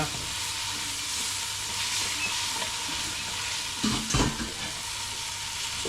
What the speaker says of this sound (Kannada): ನೀರುಳ್ಳಿ ಕಾಯ್ದುಂಡು ಅಂಚ ಒಂಚೂರು ಒಂದು ವಾಡ್ಗ ಜಿಂಜರ್ ಗಾರ್ಲಿಕ್ ಪೇಸ್ಟ್ ಒಂದು ಫ್ರೈ ಮಾಡ್ತದ